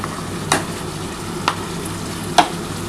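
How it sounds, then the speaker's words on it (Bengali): Spice paste for a goat meat curry fries in a pan with a steady low sizzle, while three distinct spatula scrapes land about a second apart; no voices. "খুব ভালোভাবে মশলাটা কষাতে হবে।"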